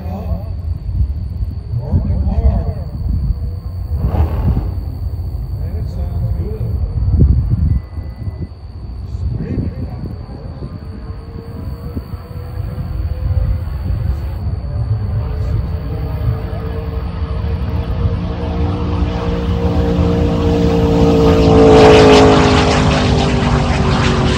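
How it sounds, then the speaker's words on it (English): The Trans Am race car runs the Arkansas Mile in a loud, distant engine roar that builds through the pass, rising into a sweeping high whine toward the end, with a steady tone and background noise throughout. "ran the Arkansas Mile in the Trans Am that we built on the show"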